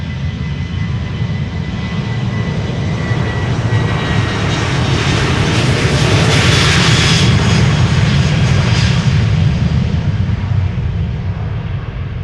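A KLM Boeing 737-800 jet departs Amsterdam Schiphol with a loud, continuous engine roar that swells to a peak midway and then eases slightly as it passes.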